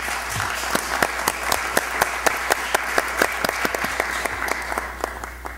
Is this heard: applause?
yes